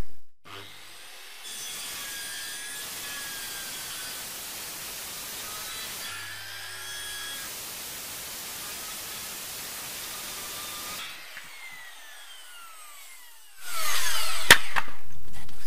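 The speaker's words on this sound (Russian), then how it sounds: "Все, беру и пилю." A hand saw cuts through wood for a bathhouse extension, with steady back-and-forth rasping strokes running for about ten seconds, then a pause and a louder closing noise, with no talking.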